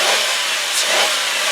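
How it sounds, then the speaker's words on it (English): A 2002 Ford Taurus S wagon's V6 engine revs up in one loud, close, broad rushing roar that swells and eases slightly over a second and a half, with no speech. "I'm going to rev it up for you."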